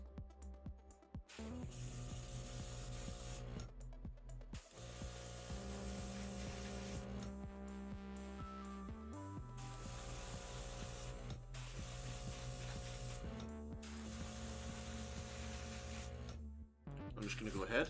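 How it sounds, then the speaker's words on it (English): An airbrush sprays primer onto a plastic Warhammer 40k model, giving a steady, close hiss that runs almost unbroken with a few short pauses, over faint background tones. "Do you know what I love about priming with an airbrush?"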